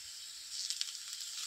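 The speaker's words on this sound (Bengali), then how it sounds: "এরপর দিয়ে দেবো মশলা, আদা রসুন পেঁয়াজ জিরে বাটা।" Ground ginger, garlic, onion and cumin spice paste sizzles in a frying pan at home, a steady bright hiss that swells with crackling pops midway, close and moderately loud with no talking.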